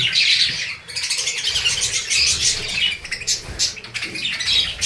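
Birds in a bird colony squawk and chirp together in a busy, close chorus of overlapping harsh calls and sharp tweets with short gaps.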